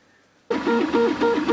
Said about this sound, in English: So I'm just printing out the last two belt holders.